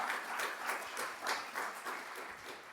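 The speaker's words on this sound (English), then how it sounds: "One of the few rooms I can say that and get an applause." Keynote audience in a conference room applauding, a soft, distant wash of many hands clapping in a steady rolling burst with no voices over it.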